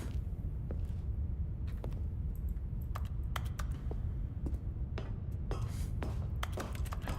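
Keyboard typing sounds in The Stanley Parable video game, scattered sharp key clicks over a steady low hum of room tone, moderately loud and without talking.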